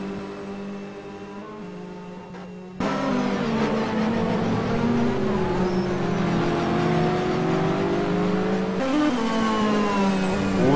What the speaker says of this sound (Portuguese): O Silvestrini é o carro que vem, a Ferrari ali que vem inteira, enquanto que o carro que vai à frente, o Mercedes SLS, é do Luiz Scapini